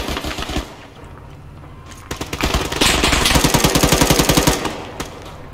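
Gunfire in the military shooter ArmA 3: scattered shots, then a long rapid automatic burst of close, loud cracks in tight rhythm, followed by a few more isolated shots.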